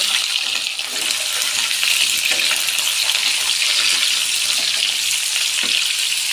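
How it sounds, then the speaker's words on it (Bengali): Pointed gourd and potatoes frying in oil after a cumin tempering, giving a steady, close crackling sizzle throughout with occasional faint stirring clinks and no talking. "এবার দেবো পটল আলু সবজিগুলো তেলের উপর ভালো করে ভেজে নেব"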